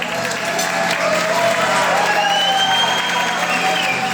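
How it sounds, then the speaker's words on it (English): A crowd applauds at a high school's 50th anniversary gala, a broad, sustained wash of clapping with some cheering and a few whistles mixed in, steady and loud throughout. "Please give them both a round of applause."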